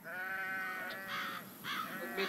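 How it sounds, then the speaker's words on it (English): Bleating from Tukadale sheep, a long-haired, woolly breed originally from New Zealand, on a farm pasture: a couple of drawn-out, wavering calls close by, with a further shorter bleat near the end. "The Tukadale sheep, which originally came from New Zealand."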